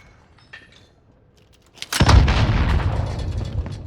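In Call of Duty Warzone, a sudden loud blast of gunfire and booming impacts erupts after a near-silent start, then sustains as a dense rumbling barrage to the end.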